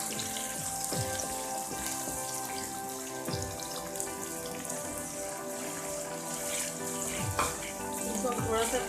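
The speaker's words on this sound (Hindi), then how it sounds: "इसको हम थोड़ा सा फ्राई करेंगे ताकि ये जो टमाटर है वो गल जाए" Tomatoes and green chillies frying in a pan with ginger-garlic paste, a steady close sizzle and crackle running throughout with a few small pops, and no talk over it.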